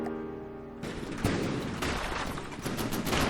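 Fragmentation rounds fire in a dense barrage in From the Depths, a rapid, loud stream of overlapping blasts that starts abruptly after a quiet mechanical hum and holds steady without any voices.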